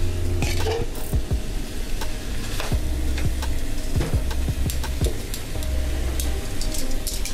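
Oxtail, about 2.5 pounds, going into a hot pan for Chamorro oxtail soup, giving a steady close sizzle with scattered clinks of utensils and pans and occasional stirring scrapes throughout.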